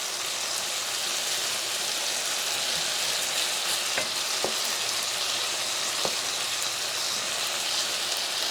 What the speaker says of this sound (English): the shrimp started to cook. So I'm turning it over on the other side